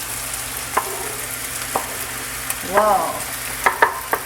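Chopped tomato, spring onion and green and red peppers hit a hot pan for a Lebanese lamb omelette, sizzling steadily with clicks of stirring and a brief spoken exclamation.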